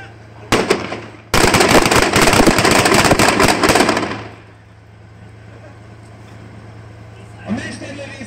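Sniper and assault-team gunfire at a 2010 military open-day demonstration: a single loud shot, then a dense, rapid volley of crackling rounds lasting about three seconds, fading to a low hum with a faint burst near the end.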